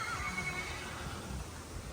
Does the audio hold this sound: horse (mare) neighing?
yes